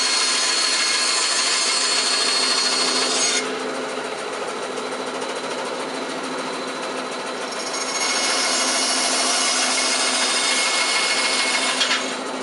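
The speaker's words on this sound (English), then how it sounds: "My bandsaw makes cutting the notches a breeze." A bandsaw cuts notches into a wooden board for a rat trap build, a steady loud whine and rasp that drops in intensity midway through the cut before rising again near the end, with no talking.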